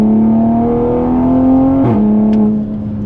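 A tuned 480hp Toyota Supra with a Valvetronic exhaust, FBO and E30 map accelerates hard from the driver's seat, engine tone climbing steadily, then dipping sharply at a gear change before pulling again, loud and close.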